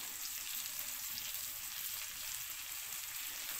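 Tomatoes go into onions already frying in a pan and hiss with a continuous, even, crackling sizzle. It is fairly faint but steady throughout, and no one speaks over it.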